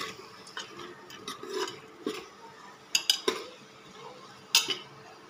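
Soaked chickpeas being stirred and sautéed in a pot for masala khichdi, with scattered metallic clinks and scrapes of a spoon against the pot at an uneven pace, close and moderately quiet, with no talking.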